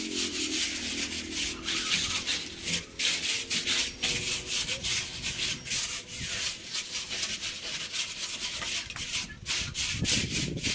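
A homemade broom made from waste plastic bottles sweeps cobwebs, giving continuous scratchy brushing and rubbing strokes that stay close and steady throughout, with no talking over them.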